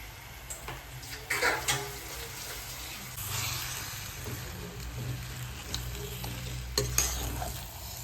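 Three-quarters of a kilo of fresh chicken is stirred into sizzling masala for a chicken pepper fry. Steady frying crackle runs under close scraping stirs and a few louder knocks of the spoon against the pan.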